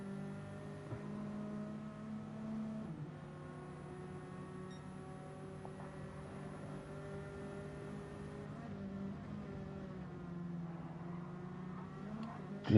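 Nissan race car engine in a Gran Turismo-style racing game at Dragon Trail Gardens, a steady faint high-revving drone held through the run with shifting tonal layers and a slight pitch change partway.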